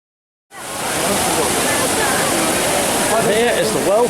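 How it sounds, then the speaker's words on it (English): Water from the Trevi Fountain in Rome splashes and cascades steadily, a dense, loud rushing wash that starts suddenly after a brief silence and continues unbroken, with crowd murmur faintly mixed in. "Here is the world famous Fonte di Trevi, the Trevi Fountain."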